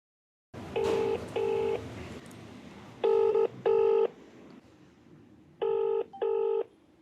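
An outgoing telephone call rings through on the line: after a click, three pairs of loud double ringback tones sound at regular intervals, with a faint hiss between them.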